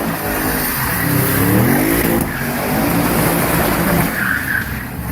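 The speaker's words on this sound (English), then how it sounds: "Audi RS6 showing off some serious muscle and precision." An Audi RS6 spinning drifting donuts, its engine revving loudly and steadily with rising and falling pitch, close and continuous, with a brief tire squeal near the end.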